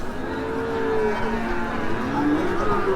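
A cow, likely a Sahiwal at a cattle market, moos in a long, drawn-out low call, followed by another bellow, loud and close amid steady background noise.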